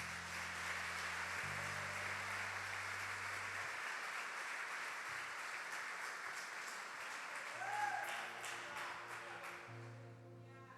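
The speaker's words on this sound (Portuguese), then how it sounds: "Aplauda o Senhor Jesus." A church congregation applauds steadily with dense, sustained clapping from start to end, while a low organ or keyboard plays sustained chords underneath.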